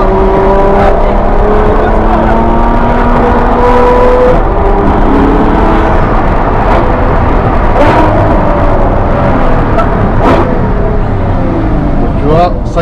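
An 800 hp Ferrari in race mode roars and revs loudly up close, engine tones sweeping up and down with sharp gear changes, while someone talks over it.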